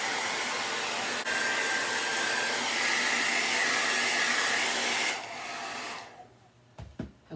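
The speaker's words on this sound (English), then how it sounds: "I apologize for all the blow drying" A hair dryer blows steadily on painted burlap fabric for about five seconds, loud and close, then cuts off, leaving a quiet room with a few faint knocks.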